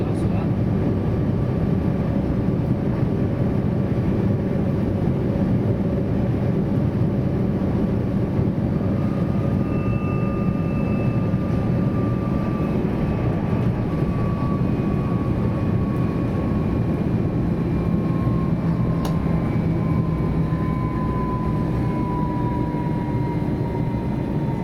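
Interior ride aboard a Go-Ahead Bayern Stadler Flirt 3 electric train from Munich Hbf toward Leutkirch: a steady broadband rumble of running gear with a slowly drifting traction-motor whine, continuous and fairly even for the whole stretch.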